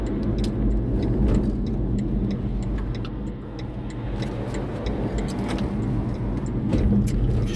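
BMW i3 REx electric car driving on local roads, a continuous low road and tyre rumble with faint ticking, steady and close throughout.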